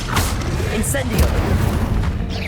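A booming, crackling burst of fire magic from the Incendio spell in the Hogwarts Legacy video game, loud and dense over rumbling game sound, with a voice speaking over it.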